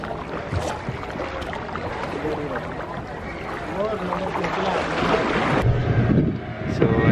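Boat ride out to Dolphin Beach near Goa, with wind buffeting the microphone, water sloshing and a low engine rumble under continuous chatter from passengers on board.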